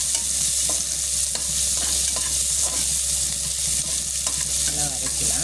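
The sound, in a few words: onion being sautéed in a pan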